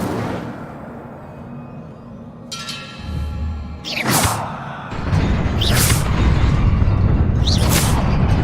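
Several bursts of the Incendio fire spell in Hogwarts Legacy, each a sharp whooshing blast with a booming low body, fired in quick succession and growing heavier and more continuous toward the end.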